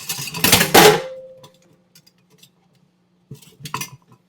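A metal strainer used for cold soba clanks and rattles loudly for about a second, then falls quiet. A few lighter metallic clinks follow near the end.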